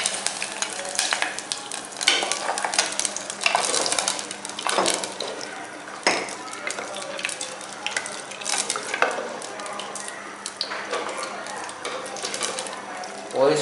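Steady stirring and scraping in a pan of lapsi with melting jaggery under a constant sizzle, with occasional sharp clinks of a utensil against metal.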